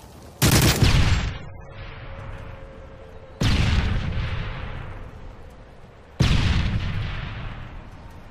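Grenade blasts and gunfire in a search-and-destroy match of a first-person shooter video game, three heavy booming bursts each fading into a long rumbling tail, loud and close.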